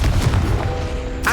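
Confringo blasting spell from Hogwarts Legacy, a short, deep booming blast that rumbles on briefly, followed by a bright magical flourish at the very end.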